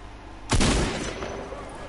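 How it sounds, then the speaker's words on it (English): A single loud gunshot in Fortnite cracks out midway, then decays into a lingering rumble over quiet game ambience. "Someone shot at me."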